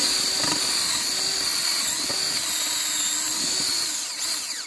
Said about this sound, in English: As you drill, you'll see the dirt will be flowing up